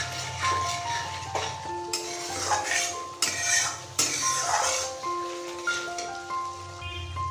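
A spoon stirs whisked sour yogurt into a pot of vegetarian ghugni, with repeated close metallic scrapes and clinks against the pan over steady background music.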